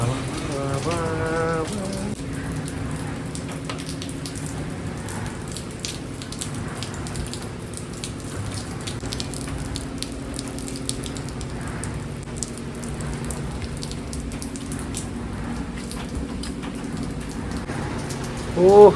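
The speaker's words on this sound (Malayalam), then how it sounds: "എന്തായാലും നല്ല മഴയാണ്, നമുക്ക് പോയി നോക്കാം." Rain falls steadily in a broad, even hiss with scattered drops pattering on surfaces, fairly loud throughout, with brief faint tonal sounds early on and a louder thump at the very end.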